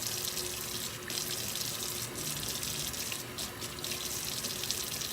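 Hot tap water runs steadily over hands being washed with soap at a kitchen sink, a continuous close splashing stream with brief surges of spatter.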